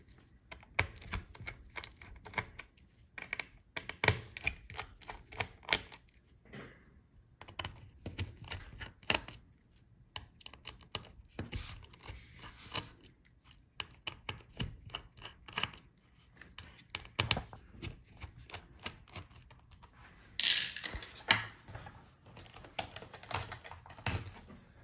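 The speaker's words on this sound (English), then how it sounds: "Let's unscrew the hinges so we can separate the Palmrest assembly." A screwdriver removes the hinge screws on a Dell XPS 15 9520 laptop, giving close, irregular small clicks and taps in quiet bursts.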